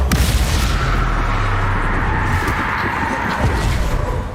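Bombarda blast spell in Hogwarts Legacy, a loud booming explosion followed by a sustained heavy roar and crackling debris that fades slightly over several seconds, with no talk.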